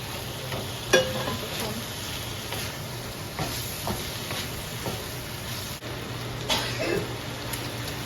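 Food fries in a pan while holy basil stir-fry with a fried egg is cooked, a steady quiet sizzle broken by a few sharp clinks and scrapes of stirring.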